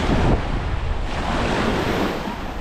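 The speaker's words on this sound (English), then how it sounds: "Welcome to Pitalongu Beach." Surf and steady wind roar at Pitalongu Beach near San Teodoro, Sardinia, a broad continuous wash of waves breaking close by, with gusty wind noise buffeting the microphone throughout.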